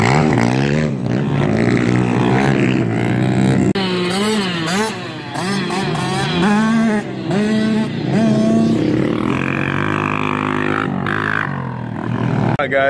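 Kids' dirt bikes riding at High Falls Motocross track: close, loud engines revving and rising and falling in pitch as the bikes pass, with a second bike buzzing in the background.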